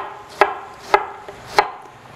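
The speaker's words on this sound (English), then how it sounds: "I'm going to make relatively thin slices, just like this" A knife cuts thin, angled slices through a peeled vegetable on a cutting board, giving three crisp, evenly spaced chops close by, with no talk.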